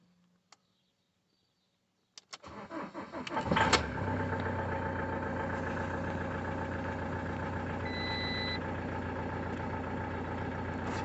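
Starter cranking on a Peugeot Boxer van's 2.2 HDI diesel, catching into a steady mid-pitched idle that stays loud and even, with a brief high electronic tone partway through; no talk.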